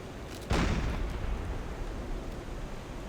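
A submarine deck gun fires in Silent Hunter 4, one heavy boom that rolls into a long, noisy decay with no talk over it.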